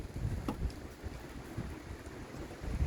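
Gusty outdoor wind buffets the microphone in low, uneven rumbling surges with occasional stronger puffs, and no voices are heard.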